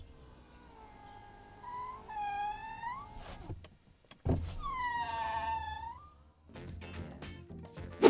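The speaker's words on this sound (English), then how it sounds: "it makes this noise when you put the window up and down" A Ferrari Roma's power window motor runs up and down with a rising and falling whine, then a clunk as it stops before running again, quiet and close inside the car with no speech.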